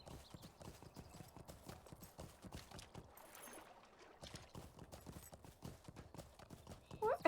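Horse hooves clip-clop steadily in the video game Lord of the Rings Online (LOTRO) as a rider crosses near water. The hoofbeats are quiet and continuous, with faint ambient sound underneath.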